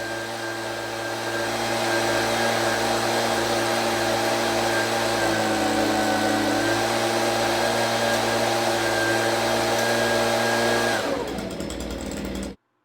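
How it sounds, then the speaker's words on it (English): A loud motorized leaf blower drones steadily and close, throttling up and holding its roar before cutting off abruptly at the end. "You'll now hear the throttling up of the leaf blower"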